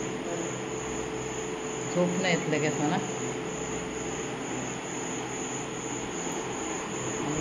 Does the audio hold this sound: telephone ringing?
no